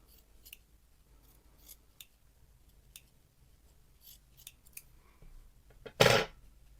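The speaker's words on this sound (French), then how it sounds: "S'il y en a qui sont un peu trop longs, on les coupe pour que ça fasse joli." Scissors snipping excess yarn on a crocheted snowman: faint light clicks scattered across the quiet, then one sharp, loud close-up cut near the end.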